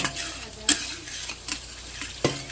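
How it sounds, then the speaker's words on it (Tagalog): Garlic sizzles in a pan as the first step of beef stroganoff, a soft continuous frying hiss broken by a few sharp clinks and scrapes of a utensil against the pan. "At maglalagay muna tayo ng bawang"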